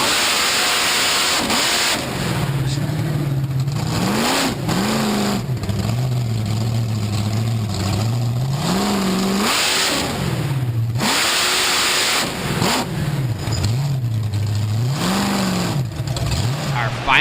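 The Snakebite monster truck's engine revs loudly and continuously at a monster truck nationals event in DuQuoin, Illinois, rising and falling in repeated throttle swells over steady crowd and arena noise.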